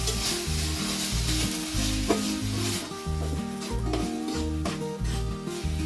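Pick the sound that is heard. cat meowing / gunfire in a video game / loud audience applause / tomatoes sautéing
tomatoes sautéing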